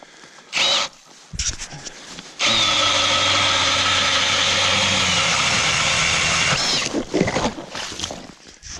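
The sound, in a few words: ice auger engine drilling holes in lake ice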